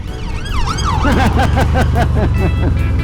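An emergency vehicle siren wails nearby in traffic, its sweeping tone shifting into a fast warble as it passes, loud over a steady engine rumble.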